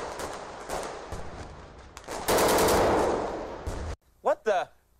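Rapid gunfire bursts, loud and dense like automatic weapon fire, building into a sustained roar before cutting off abruptly, followed by brief indistinct voices.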